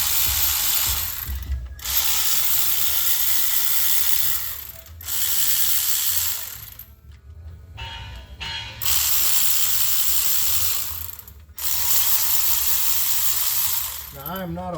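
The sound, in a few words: ratchet removing valve covers on 1972 Ford F100 360 engine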